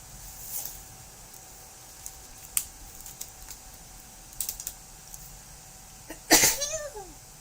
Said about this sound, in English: That was a weird sneeze.